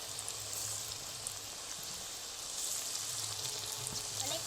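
Young jackfruit pieces fry in hot oil with a steady, close sizzle and bubbling hiss that carries on evenly without a break, and no voices are heard.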